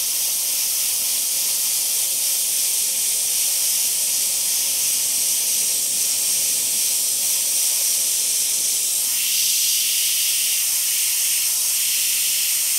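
Airbrush spraying paint while detailing skulls within flames, a steady close hiss of air running without a break, with slight changes in pitch as the flow shifts and no voices.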